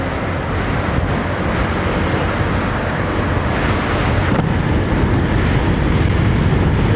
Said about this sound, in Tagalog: Uy, lakas ng hangin.